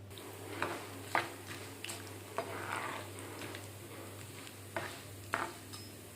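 Mustard seeds, cumin seeds and urad dal fry in hot oil with a soft, steady sizzle and a few light pops, close by and fairly quiet, with occasional utensil stirring clicks and no talking.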